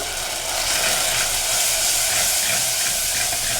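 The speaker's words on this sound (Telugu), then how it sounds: "ఇదంతా మంచిగా వేగాలి." Spices and turmeric frying in hot oil for a taro pumpkin stew, a loud, steady sizzling hiss that holds evenly without pause.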